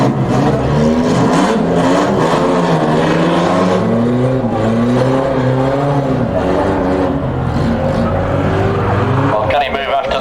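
Banger racing cars roar around an outdoor track at a 1997 Warton meeting, with continuous loud engines revving and changing pitch as the cars pass. A commentator talks over the racing throughout.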